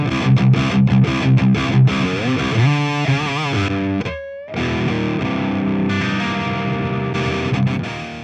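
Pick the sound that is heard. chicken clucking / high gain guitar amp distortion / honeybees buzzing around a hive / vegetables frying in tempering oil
high gain guitar amp distortion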